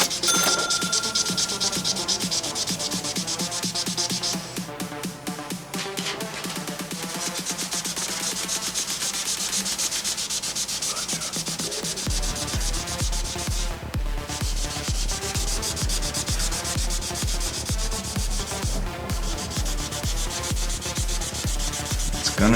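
A magic eraser rubs back and forth across a pinball playfield in a steady run of close, scratchy strokes, with no talking.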